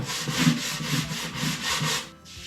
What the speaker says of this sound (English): we'll do it with the hand sander